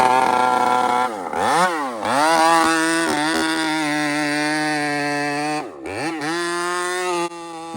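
Chainsaw cutting to fell a 40-foot tree, a loud steady buzzing engine whine with a few sharp rev dips and recoveries across the cut, close by and with no talking.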